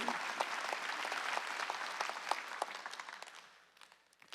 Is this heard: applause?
yes